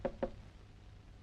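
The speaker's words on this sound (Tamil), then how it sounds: "இந்த நேரத்துல இப்படி யார் கதவு தட்டுறாங்க?" Knocking on a door in a quiet room, late at night: two sharp knocks close together, a pause, then a third knock after about a second.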